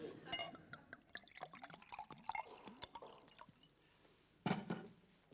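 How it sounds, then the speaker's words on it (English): Water is poured into a glass at a lectern before a talk, close gurgling and trickling with a rising fill, followed by a short clink, all quiet and faint. "I'm going to pour my water at the beginning"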